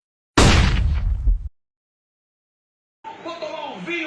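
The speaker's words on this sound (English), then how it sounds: "Throwing flashbang." Flashbang grenade going off in Counter-Strike, a loud sharp bang with a ringing, hissing tail lasting about a second, then silence before a voice speaks.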